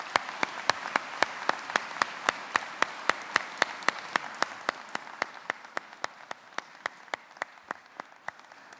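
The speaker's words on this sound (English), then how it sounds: "Would you please join me in applauding our musicians who are just seated behind me?" Clapping for musicians echoes through a cathedral as a steady train of sharp, evenly spaced claps at about three per second, reverberant and moderately quiet, slowly fading toward the end with no talking.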